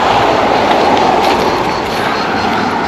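A Lastochka passenger train passes close by a beach at Lazarevskoye in Sochi, making a loud continuous roar of rolling wheels and rushing air with rhythmic clatter that lasts throughout.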